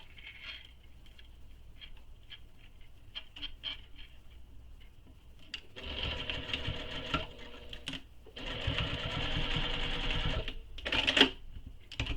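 Sewing machine stitching a 16-inch zipper onto a handmade tote bag, starting with faint scattered clicks and taps, then running in two steady buzzing bursts with a short pause between and a sharp clack near the end.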